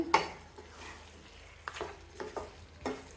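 A spoon scrapes and stirs through country chicken curry in a frying pan, a few short strokes over a soft background sizzle.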